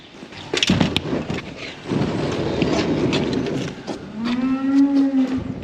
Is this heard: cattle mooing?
yes